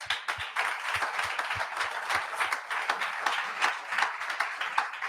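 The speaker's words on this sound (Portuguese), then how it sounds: "Aplauda a Jesus." A church congregation claps for Jesus during a sermon, a lively crowd of hands with some distinct rhythmic claps standing out, moderately loud and continuous throughout.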